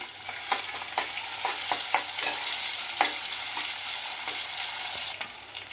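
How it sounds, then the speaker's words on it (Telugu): Green chillies and curry leaves are stirred in a hot pan for a brinjal and raw mango curry, giving a constant frying sizzle with scattered light clicks and scrapes from the spoon, and no voices. "పచ్చిమిర్చి, కరివేపాకు ఒకసారి కలుపుకుందాము."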